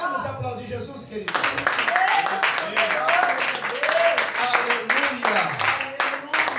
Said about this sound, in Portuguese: Vamos aplaudir Jesus, queridos.